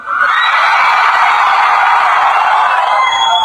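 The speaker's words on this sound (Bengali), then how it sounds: "এবার তোমরা কত জোরে চিল্লাইতে পারো দেখি তো, যত জোরে।" A student festival crowd shouts at full volume in one long sustained roar of many voices, loud and continuous from start to finish.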